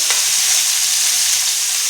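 Fish frying in a home kitchen pan makes a loud, close, unbroken sizzle, with a sharp scrape of stirring near the end.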